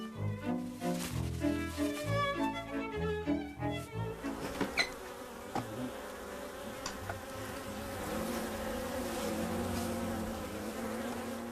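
Bees swarm and buzz around their hive while fending off attacking birds and hornets, a steady insect drone that fills the scene at moderate level, with musical tones layered over the first few seconds.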